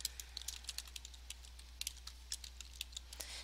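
Keys tapping on a computer keyboard as a title is typed, a quiet, steady run of light clicks with small pauses, alone over a low steady hum.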